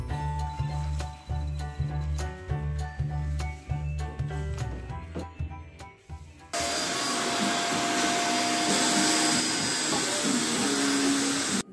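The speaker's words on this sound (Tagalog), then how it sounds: "hindi talaga kinakaya ng vacuum sa sobrang ruminang aming electric fan" A vacuum cleaner runs loud and steady, cleaning a very dusty electric fan at home, its broadband roar filling the second half after an earlier stretch of choppy pulsing motor noise.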